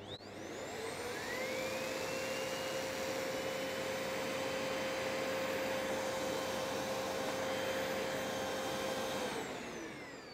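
Miele bagged vacuum cleaner converted to bagless with a cyclone, running steadily as a loud, even whoosh with a sustained whine, spinning up at the start and winding down at the end, with no other sounds.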